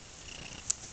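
A domestic cat purring outdoors, a soft, faint, steady rumble lasting about a second with no voices.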